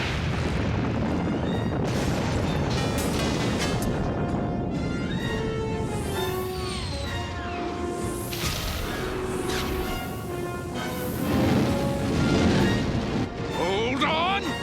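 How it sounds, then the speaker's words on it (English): Animated sci-fi series battle: a loud detonation boom rolls into a dense, sustained wash of blasts, whooshing sweeps and laser-like zaps, with voices and score mixed underneath throughout. "Detonation."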